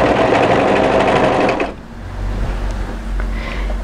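Overlocker serger running fast on the raglan seams of a hoodie, a loud close whirring stitch that stops abruptly partway through, leaving a low hum and quiet room noise.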